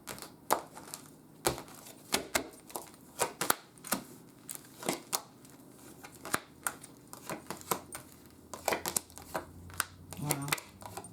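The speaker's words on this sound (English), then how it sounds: "let me cut the cards here." Tarot cards being cut and shuffled by hand make a run of sharp, close papery snaps and riffles in irregular bursts over faint background hum.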